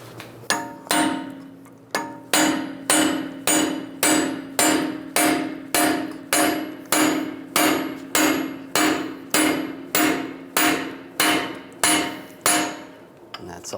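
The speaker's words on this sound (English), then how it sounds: "I'm going to punch the center axle straight through." Punch driven with a hammer through the center axle of a Volkswagen Beetle strut assembly, a steady series of about twenty sharp metallic strikes at even rhythm, close and alone.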